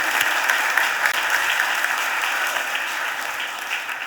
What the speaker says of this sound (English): So let's give those young people a round of applause as well.